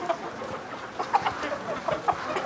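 Chickens clucking at a market in a film scene, several short near clucks in an irregular rhythm over a low background murmur.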